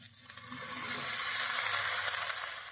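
Potato pieces hiss and sizzle steadily in hot oil alongside lightly browned cauliflower in a pan, a broad, fairly quiet frying wash that swells and holds for a few seconds with no talking.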